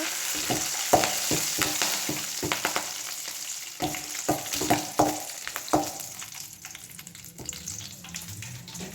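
A pan sizzles steadily while a spoon scrapes and clatters against it in irregular stirring strokes, close up, as bitter gourd fry is mixed with tempering, with no talking.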